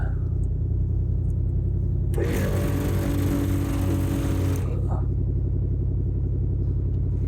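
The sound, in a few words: on-board air compressor starting and running on off-road truck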